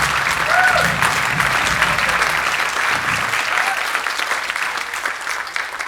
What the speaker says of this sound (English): let's give one more big round of applause to them.